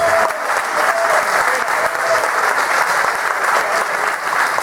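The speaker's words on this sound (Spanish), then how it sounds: "quiero que reciba un aplauso" A live audience applauds warmly at the close of a bullfighting conference, sustained even clapping from a crowd filling the whole stretch, with no talk on top.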